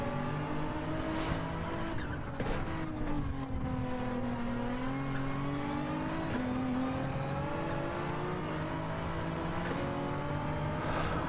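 A Nissan Nismo race car's engine in a racing game, a continuous loud drone with pitch rising and falling through gear changes and throttle lifts, with occasional brief tire scrubs, heard close and alone.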